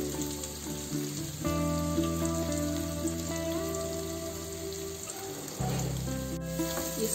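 Vegetables and tomato for samak pulao fry in a pan with a steady, hissing sizzle that lasts throughout, close and even. A droning tonal hum sits underneath, and no one speaks.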